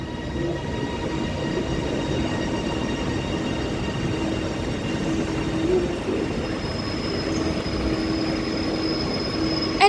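A Class 397 electric train passes through Preston station on the West Coast Main Line, a steady loud rumble with rail noise and a faint high wheel tone building toward the end, no voices.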